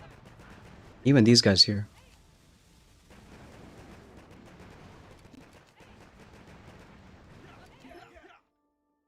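Machine gun fire in the Boom Beach Warships video game: one loud, dense burst of rapid shots lasting under a second, followed by quieter game sounds while someone talks.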